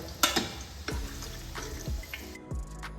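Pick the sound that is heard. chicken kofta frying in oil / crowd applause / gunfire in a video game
chicken kofta frying in oil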